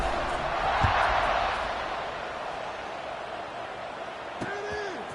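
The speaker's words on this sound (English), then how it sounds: "this crowd now ready to get behind them" Football stadium crowd at a college game kickoff roars in a broad, steady wash of cheering, loudest early and easing slightly, with a distant whistle-like tone near the end under a commentator's voice.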